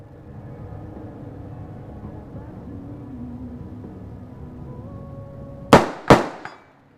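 Two sharp AR-15 rifle shots crack out about half a second apart at an outdoor range, fired toward a target 105 yards away, each loud report followed by a brief ringing echo after a quiet stretch of low background rumble.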